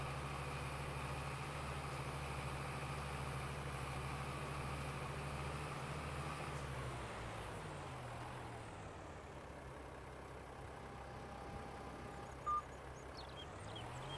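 An old tractor engine chugs in Farming Simulator 22, run in about third gear at low RPM. It is a faint, steady low drone whose pitch sags and shifts about halfway through, with no voices over it.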